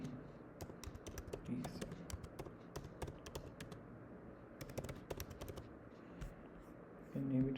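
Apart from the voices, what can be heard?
typing a prompt on a computer keyboard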